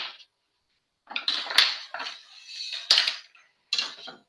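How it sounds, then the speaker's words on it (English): Cutting board grabbed in a kitchen, with clattering knocks and scraping of utensils and dishes in several loud, close bursts separated by brief silences. "And grabbing a cutting board."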